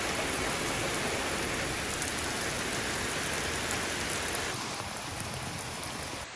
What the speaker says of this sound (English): This has been all day, on and off, pouring rain.